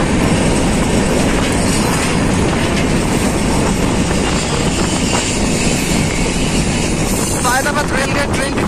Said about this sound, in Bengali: ট্রেন এখন সায়েদাবাদ রেলগেট ক্রস করছে।